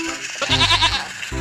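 Goat bleats come from a toy goat-carrying train, likely a Thomas engine, heard as one loud, wavering cry in the middle, with a shorter call starting at the end.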